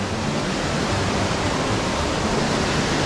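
A mountain waterfall on the Matsuki-zawa headwaters in Ashio sends up a steady, close, full-bodied roar of falling water, unbroken and even with no voices.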